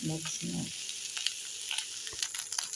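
Chinese-style fried rice with egg, soy sauce and vegetables stir-fried in a pan, giving a close, steady sizzle broken by scraping stirs and light clatter, with a short low voice at the very start.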